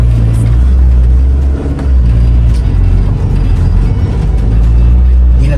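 A car engine, an EG treated with oil additive, runs steadily and loudly with a constant low rumble and only a brief dip in level, with no talk over it.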